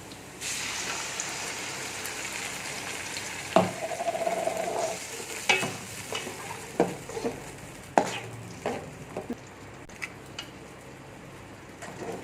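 Ground tomato tipped into golden fried garlic in a pan, sizzling steadily throughout with several sharper stirring scrapes and splutters, close and moderately loud, no talk.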